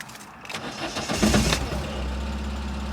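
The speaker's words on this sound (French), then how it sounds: "Ça tremblote un petit peu au démarrage, mais autrement dit, le moteur tourne toujours aussi bien, il tourne rond." A Citroën Saxo VTS, twenty years old with 200,000 km and a small stainless silencer, cranks briefly then catches and settles into a steady, slightly shaky idle, close and fairly loud with no talking.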